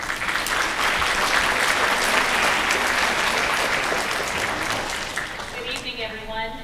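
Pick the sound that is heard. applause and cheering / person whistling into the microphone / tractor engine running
applause and cheering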